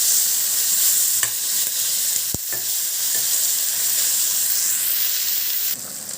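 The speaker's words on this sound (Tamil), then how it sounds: "சேர்த்து நல்லா வதக்கிக்கலாம்." Chopped tomatoes sauté in hot oil in a pan for dried fish thokku, a steady loud sizzle and crackle with a few stirring clinks, continuous and close.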